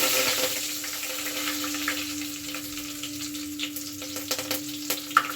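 Mustard seeds, a chili and curry leaves sizzle in hot oil as a tempering for sambar, a steady close crackling hiss with small pops that runs throughout, with no voices.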